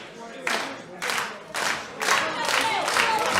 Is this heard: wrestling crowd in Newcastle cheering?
yes